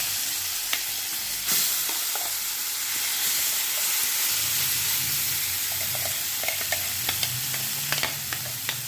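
Dried red chillies frying in hot oil in a pan for a cucumber chutney tempering, a steady soft sizzle with occasional small pops and crackles, fairly close, no talking.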